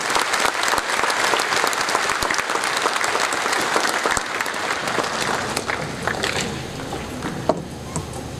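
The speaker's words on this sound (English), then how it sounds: "Please give them a big round of applause and welcome." Audience applause welcomes an Indian Navy band to the stage, dense clapping from a large crowd, loud and continuous, fading slightly near the end.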